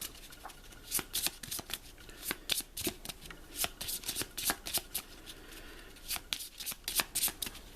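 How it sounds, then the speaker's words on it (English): A deck of summoning cards from the Pandemic: Reign of Cthulhu board game being shuffled by hand, a run of crisp riffling bursts repeating at an uneven pace, close and fairly quiet with no talking. "We give it a shuffle like so."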